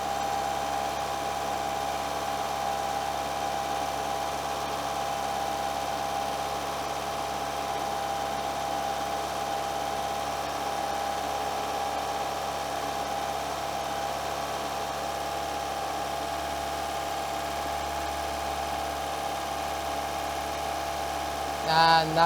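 The radiator cooling fan of a Renault Clio 1.2 16v runs with a steady, even whir over engine hum, holding constant at close range for the whole stretch.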